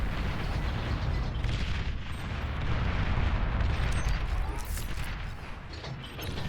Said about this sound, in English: here comes the bombing run